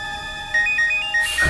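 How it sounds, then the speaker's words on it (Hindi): A phone ringtone chimes in a repeating electronic melody, clear and fairly close, with a brief burst of noise at the end. "उसी का फोन है।"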